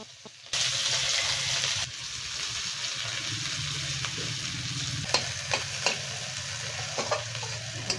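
Onion sizzles in hot oil in a wok: a loud, steady frying hiss that starts abruptly, eases slightly after a couple of seconds, and is broken later by several sharp clinks and scrapes of stirring.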